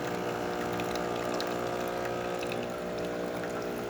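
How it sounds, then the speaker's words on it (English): A DeLonghi espresso machine's water pump pushes water into its thermoblock, producing a steady buzzing mechanical drone with a constant tonal hum and faint rattling, close and continuous without talk. "Water is passing through from this water pump into this thermoblock"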